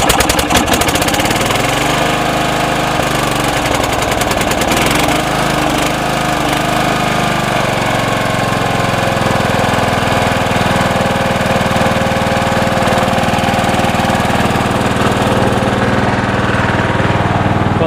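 A John Deere 160 lawn tractor cold-starts on ether after sitting since last year, cranking briefly before the small engine catches and runs on at a loud, steady, close-up rumble.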